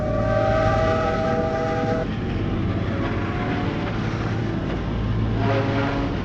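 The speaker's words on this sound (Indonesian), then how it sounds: "datanglah sebuah kereta api" Loud, steady rumble of a train with a sustained horn tone near the start and again near the end.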